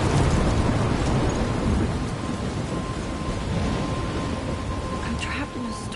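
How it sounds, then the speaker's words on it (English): A thunderstorm in the video game Life is Strange, with heavy steady rain and low rumbling thunder filling the scene, loud and continuous with no voices. "I'm trapped in a storm?"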